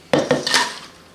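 Potato chips get flipped in a metal pan during seasoning, giving three quick clinks and scrapes of a utensil against the pan in a short burst, close and clear.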